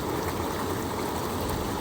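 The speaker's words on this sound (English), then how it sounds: "that circulation pump turns over the water over about 60 times an hour" Hot tub circulation pump churning water in a constant, even rushing wash with a faint trickle, steady and unbroken at low level with nothing else heard.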